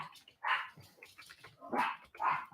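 Dogs barking in several sharp bursts, fairly close, with pauses between the clusters of barks.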